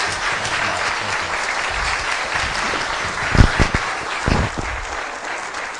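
An audience applauds to welcome David Walker at the Clinton School in 2009, a steady wash of clapping hands lasting several seconds with a few louder bursts partway through.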